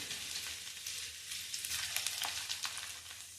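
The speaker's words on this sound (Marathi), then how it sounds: "ह्या लसूण पाकळ्या छान तांबूस होईपर्यंत त्यात तळल्या गेल्या पाहिजे" Chopped garlic cloves frying in hot oil for a traditional Marathi ambadi greens dish, giving a steady close sizzle with scattered crackles and pops, no voices.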